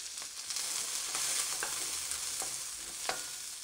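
Garlic and onion frying in a pan, a steady bright sizzle with a few sharp clicks of stirring over the top, close and fairly even throughout, no voices.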